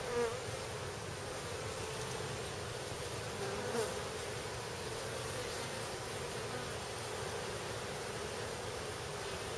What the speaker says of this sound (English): more bees are going in and out of the mouth